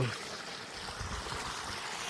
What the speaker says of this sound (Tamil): வாய்க்கா பாசத்துக்கு அருமையாக போயிட்டுருக்கு தண்ணி